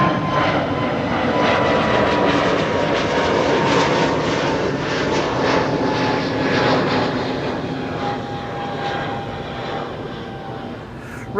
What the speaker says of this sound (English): next airplane taking off from 18 left is going to be the Retro Transavia to Palma